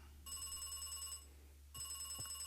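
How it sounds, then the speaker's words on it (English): An old-style telephone bell rings in the video game Beacon Pines, in two separate bursts of rapid ringing with a short pause between them, over a low steady hum. "Ooh, phone call."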